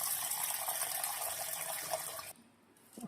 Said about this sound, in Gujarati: એને આપણે સારા પાણીથી ધોઈ લઈએ.